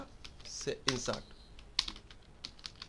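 Quick, irregular clicks of a computer keyboard as code is typed, soft and close, with short bursts and pauses, and a voice speaking faintly underneath.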